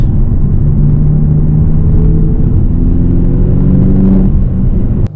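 A 2015 BMW M6 Competition Coupe with a 6-speed manual rumbles loud and close from inside, a deep steady drone with subtle pitch shifts as it accelerates, cutting off abruptly at the end.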